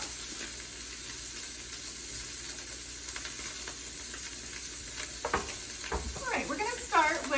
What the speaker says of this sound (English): while we're cooking the tuna